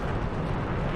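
A low, rumbling explosion as an aircraft crashes into the ground in the DCS combat flight simulator, a short loud roar filling the moment with no distinct separate impacts.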